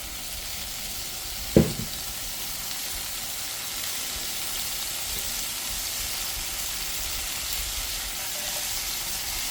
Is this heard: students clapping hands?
no